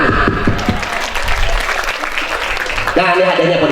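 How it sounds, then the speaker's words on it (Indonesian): Applause from a gathering at a mosque Maulid Nabi celebration, loud dense clapping filling the space, with voices and a louder sound breaking in near the end. "Applause tepuk tangan."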